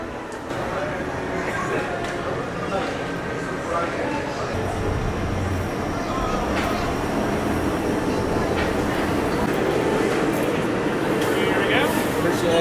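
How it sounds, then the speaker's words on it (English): Walt Disney World monorail train heading to the Magic Kingdom: a steady, loud rumble of the moving car, heard from inside, with people talking over it. "We're gonna get on the monorail and go to the Magic Kingdom"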